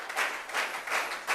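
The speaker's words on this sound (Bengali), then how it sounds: "আমরা সর্বোচ্চ করতালি দিব স্যারের জন্য" An audience at a seminar in Bogura gives a speaker a round of applause, several swelling bursts of clapping from a crowd over a brief stretch, fairly close.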